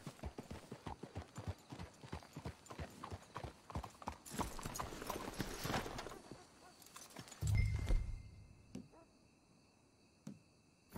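Horse hooves clip-clop steadily in Red Dead Redemption 2, a rapid train of close hoofbeats that slows and stops partway through, leaving faint crickets and ambient outdoor game sound with a low thump near the end.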